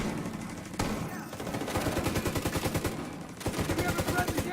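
Automatic turret fire in The Division 2, rapid bursts of loud gunshots that rattle on in steady volleys, pause briefly, then resume amid dense game noise.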